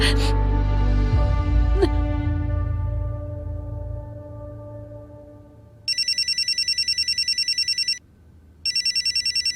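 A telephone rings in two loud bursts of rapid electronic trilling near the end, following a fading musical chord, with a short pause between the rings.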